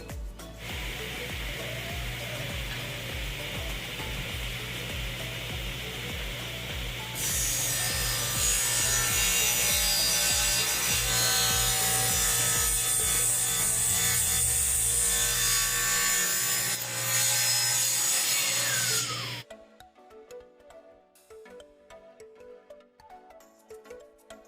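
Wooden piano bench legs tapered by hand on their inside corners, heard as a long run of steady rasping, rubbing strokes that grow louder and denser midway, then stop abruptly, leaving quieter sounds; no speech.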